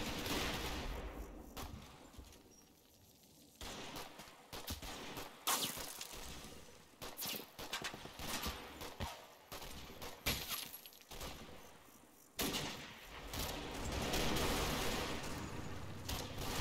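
Gunfire in a WWII battle video game, with heavy .303 Bren gun bursts and 2-inch mortar HE fire answering an ambush: dense, loud bursts and sharp cracks recur throughout, with a brief quieter lull partway and renewed volleys near the end.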